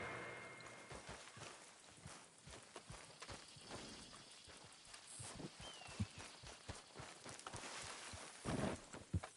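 A horse's hooves clip-clop steadily at a walk in the video game Red Dead Redemption 2, a continuous rhythmic patter over an ambient outdoor background.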